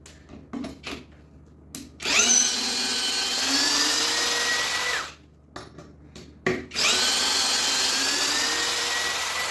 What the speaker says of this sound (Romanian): O să fac cu toate 3 de data asta în diverse găuri în partea asta a lemnului.